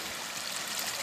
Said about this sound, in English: this is my hydraulic water ram.